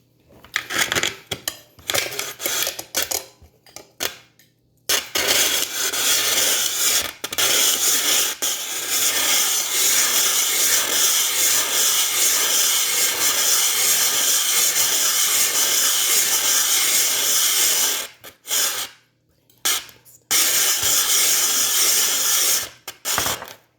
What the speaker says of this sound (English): this part right here really digs into the ice, kind of anchors it so that you can get a good grip of the ice when you're shaving it